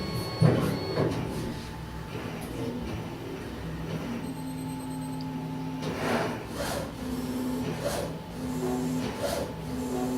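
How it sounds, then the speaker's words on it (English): A binder-jet 3D printer works through a powder-bed print, its carriage moving and spraying binder in steady mechanical passes with soft sliding, rubbing and hiss, plus faint tonal hums and occasional light knocks, with no voices. "the print carriage is spraying the binder layer by layer"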